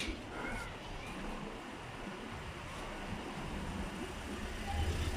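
A car rolls by in a steep, very narrow street of Istanbul's Karagümrük district with tight sidewalks, a steady broadband road rumble close at hand that swells slightly near the end.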